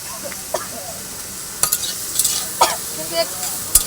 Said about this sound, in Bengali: আস্তে আস্তে এটা ভেজে নেব ভালো করে।